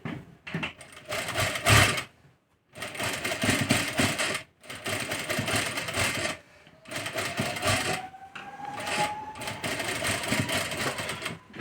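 A sewing machine stitches lace onto the round neck of a blouse in several close, rapid bursts of rhythmic mechanical clatter separated by short pauses, with a faint rising whine in later runs.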